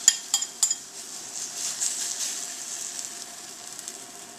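A pan of hot oil is handled on an induction cooktop: a few sharp metallic clinks at the start, then a soft, steady sizzle that fades gradually, fairly close and with no talking.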